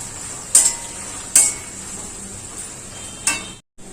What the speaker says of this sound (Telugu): వేసి కొంచెంసేపు ఈ పచ్చిమిరపకాయలని కరివేపాకుని వేయించుకోవాలి.